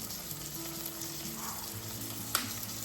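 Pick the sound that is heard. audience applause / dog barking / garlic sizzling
garlic sizzling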